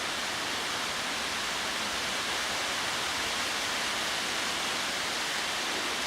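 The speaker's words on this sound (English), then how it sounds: "with today's rain, which you can probably hear beating down now" Heavy rain beats down steadily in woodland, a dense, constant hiss with no breaks, and no voices over it.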